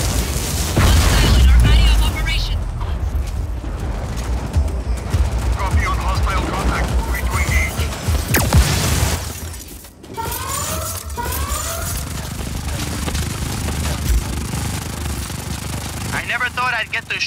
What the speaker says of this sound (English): I can't wait to blow up some exploding piñatas.